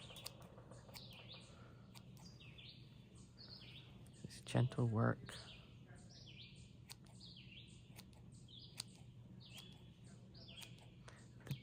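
Birds sing and chirp in repeated bright phrases around a back porch, fairly faint and steady, while a person speaks quietly nearby and a short low thump stands out partway through.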